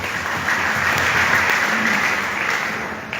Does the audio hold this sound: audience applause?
yes